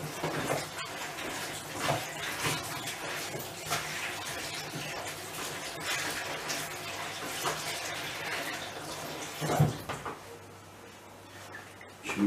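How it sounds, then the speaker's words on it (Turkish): Water poured by hand onto leftover lemon and orange pulp in a bowl while making lemonade, a steady splashing wash with a brief louder slosh near the end, close and without talk. "buna birazcık su ekliyoruz."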